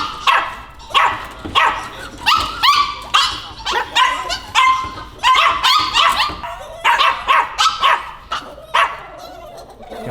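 Several puppies bark and yip in quick, repeated bursts close by, their high-pitched cries overlapping almost continuously, with brief whimpers mixed in.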